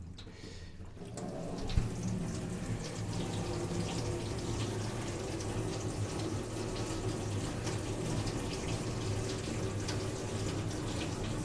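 Water runs steadily from a tap over a newly fitted sink trap during a leak check, a continuous close hiss and splash with a brief knock near the start, no talking.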